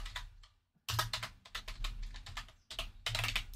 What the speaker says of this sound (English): and type in a name.